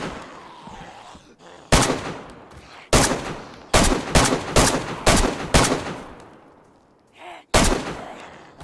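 DayZ gunfire crackles as seven or eight loud, sharp shots in uneven bursts, close and echoing, with brief quiet gaps between them and no talk.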